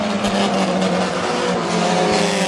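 Loud, continuous roar of Hobby Stock race cars running a heat at Granite City Speedway, dirt-track engines droning together at a steady pitch with no break.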